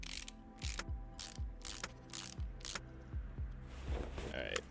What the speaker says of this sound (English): Definitely using my torque wrench on these.